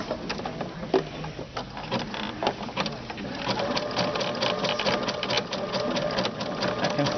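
A sewing machine fitted with a fringe looping foot runs steadily, a dense rapid mechanical whirring and clatter of stitching throughout, close and fairly loud with no talk.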